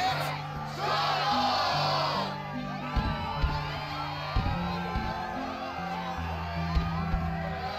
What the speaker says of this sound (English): Yes, the crowd is fired up, so you know what comes next.